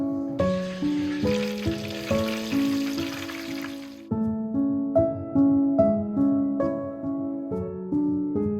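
Oil sizzles steadily in a pan for a few seconds beneath a plucked melody, then the hiss cuts out while the music continues.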